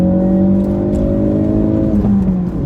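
A 2017 Ford Focus RS pulls hard uphill in second gear, its engine note rising steadily and loud from inside the cabin, ending with a slight dip near the end.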